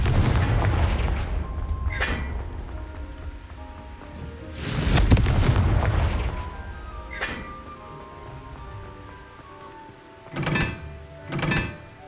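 Confringo blast spells exploding in Hogwarts Legacy: a loud rumbling boom with crackling debris, followed by several shorter, sharper blasts and metallic clinks over a low background.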